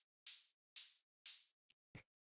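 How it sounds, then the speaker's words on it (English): Synthesized hi-hat built in Ableton Operator for a deep house track: three crisp, bright, noisy hits at a steady pulse, each with a quick decay, then a couple of smaller ticks, isolated against silence. "The first layer we have is this operator hi-hat that I made"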